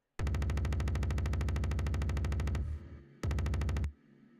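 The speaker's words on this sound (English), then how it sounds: "here's how my ballistic cannon sounds" A heavy ballistic cannon in an Unreal Engine 5 game fires in a rapid, evenly spaced burst, pauses briefly, then fires a shorter burst, each volley trailing off into reverb.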